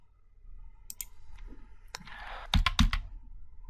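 Keys clatter on a computer keyboard as the D key is pressed twice to delete a Jupyter notebook cell: a few scattered close clicks, then two sharper, louder taps near the end.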